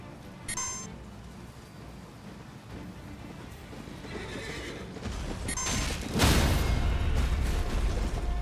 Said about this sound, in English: Wait, I killed a horse.